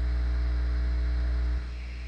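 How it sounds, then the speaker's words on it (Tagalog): The cooling fan of a Dell Inspiron 3567 laptop with a power fault roars loudly and steadily with a buzzing hum, then drops abruptly to a softer level partway through. "Super lakas ng fan niya."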